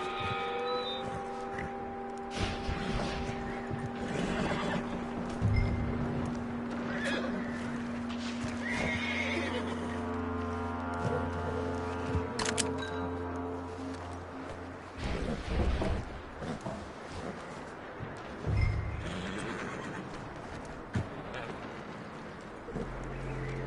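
Horses in a PS4 video game whinny and snort repeatedly over a steady clip-clop of hooves, with a low droning hum underneath throughout.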